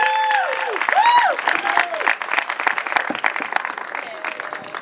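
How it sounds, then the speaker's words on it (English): Loud applause from the audience at an AC Arts Foundation 100th event, laced with several rising and falling whistles and cheers, starts strong and gradually thins out. "This man deserves a very big round of applause"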